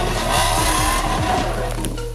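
Tires of a SsangYong Actyon Sports in four-wheel drive skid and slide on slippery ground with a steady scraping roar as the engine labours underneath, continuous and close for a couple of seconds.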